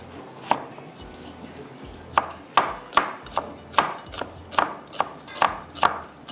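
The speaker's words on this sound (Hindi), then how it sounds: "बस आपने स्लाइस में कटिंग करना है" Knife chopping onions on a cutting board for beef malai qeema, a series of about nine crisp, evenly spaced thuds that come close and fairly loud, with a brief pause near the start and no talking.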